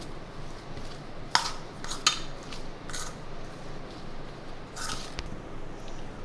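A spoon stirs spiced potato filling for aloo paratha in a metal bowl, giving a few sparse, quiet clinks and soft scrapes over a low background hiss.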